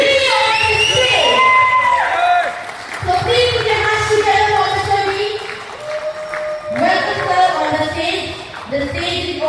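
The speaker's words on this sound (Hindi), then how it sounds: "हमारे गुरु के लिए एक बार जोरदार तालियों के साथ हम उनको इनवाइट करेंगे" A crowd at a stage event in Bangkok cheers and applauds loudly as a guru is invited up, with whoops and shouts rising over continuous clapping that swells again near the end.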